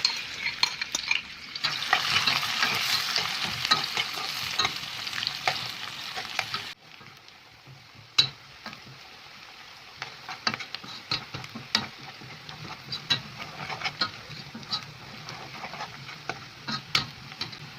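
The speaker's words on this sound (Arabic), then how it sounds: "ننزل بقى بالبصل بتاعنا." Onions frying in ghee in a pan: a steady close sizzle, loudest in the first seconds after they go in, then softer frying broken by the clicks and scrapes of stirring.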